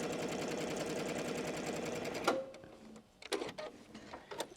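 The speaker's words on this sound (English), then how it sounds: "Now I'm starting to sew at the fold." A sewing machine runs steadily stitching a seam along a fold, a dense rapid mechanical chatter for about two seconds before stopping, followed by quieter handling clicks and rustles.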